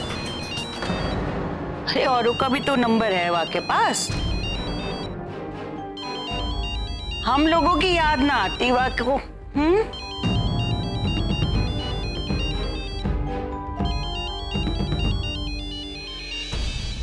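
A phone ringtone plays a looping electronic melody, repeating through the clip while people talk over it.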